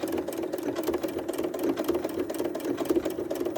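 A sewing machine stitches white fabric with pale gray thread at a moderate pace, giving a close, steady motor hum with a quick rhythmic needle pulse that runs on its own without pause.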